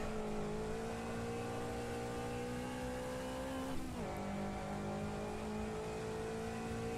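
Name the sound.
Lotus race car engine in Automobilista 2 video game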